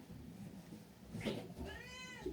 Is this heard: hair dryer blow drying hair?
no